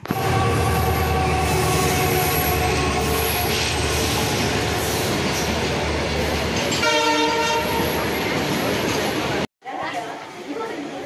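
A loud, sustained train horn blares over rumbling carriages and clattering wheels at Jagiroad railway station in Assam, then cuts off abruptly before the rumble resumes.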